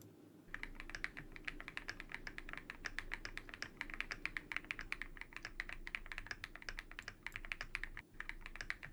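Creamy-sounding mechanical keyboard typed steadily, a dense run of close, soft clacky keystrokes with a rounded, pebble-like quality, continuing for several seconds with a brief pause near the end and no talking.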